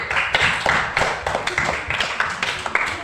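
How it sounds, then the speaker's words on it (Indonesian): Primary school pupils clap for a classmate in a fifth-grade science lesson on heat, a loud rhythmic burst of group clapping with distinct repeated beats, no voices over it. "Tepuk tangan untuk temannya."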